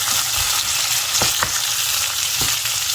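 Chopped onions fry steadily in a hot pan, a loud continuous sizzle with a few soft spatula taps and stirring scrapes.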